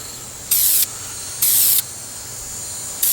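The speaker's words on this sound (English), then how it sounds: "You don't want to spray directly on the piece." Spray paint hissing onto Gunpla plastic model kit pieces in three short bursts, each roughly a third of a second, with quiet pauses between, close and loud.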